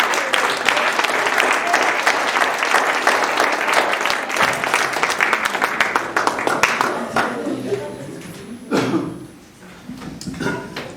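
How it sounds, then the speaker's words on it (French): A congregation applauds at a church service naming new pastors: thick, lively clapping that thins into scattered individual claps, with some voices and a cough in the room, then a brief renewed burst near the end. "Jeanne, Benoît, Petit Jean, tous vos applaudissements."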